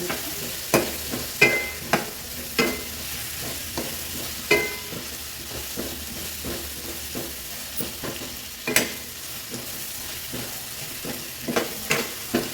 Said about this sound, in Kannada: ಹಾಕಿ ಚೆನ್ನಾಗಿ ಫ್ರೈ ಆಗಿಸ್ಕೋಬೇಕು